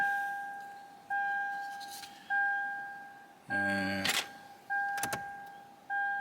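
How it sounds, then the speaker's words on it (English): Door-open warning chime in a Toyota Land Cruiser 200 Series with the ignition off, a steady repeating two-tone ding about once a second, interrupted by a brief whirring power-fold mirror motor and a few clicks. "There we go, stop that chiming."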